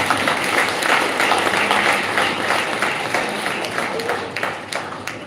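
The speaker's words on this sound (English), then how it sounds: "let's give them all a hearty hand of applause" Loud, sustained applause from a crowd at the Karenite Ace school award ceremony, many hands clapping in a dense wash with some sharper individual claps standing out.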